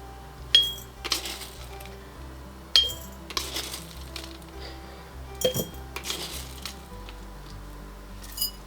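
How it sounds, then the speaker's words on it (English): Peppercorns drop into glass jars in a kitchen during pickle making, giving a string of small, light clinks and rattles in scattered bursts, close and fairly quiet, with no talking. "And then 1 teaspoon of peppercorns into each jar."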